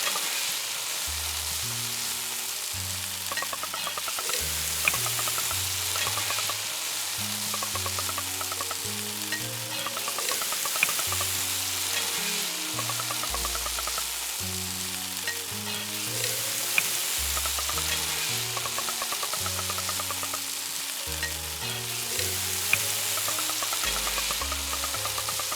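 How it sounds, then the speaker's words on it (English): Food sizzles and fries steadily in the video game Eastward, a continuous crackling hiss layered over a looping melodic game soundtrack, with no talking. "Oh, the sizzling is so loud."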